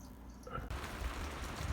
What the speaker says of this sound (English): The rain is more steady now. Yeah, it's still a light rain, so it's nothing heavy.